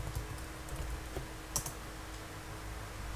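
A command typed on a Windows computer keyboard while setting up a Derby database server, heard as a short run of close, light key clicks with a few sharper taps.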